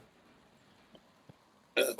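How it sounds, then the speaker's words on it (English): A loud, throaty burp lands right into a close microphone near the end, following a couple of faint small noises in an otherwise quiet moment during a Warframe game stream. "What is with you and burping in the mic the last 2 days?"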